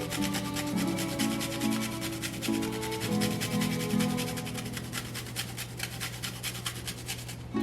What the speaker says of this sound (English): I got a little bit of a nutmeg here that I'm gonna grate that down in there a little bit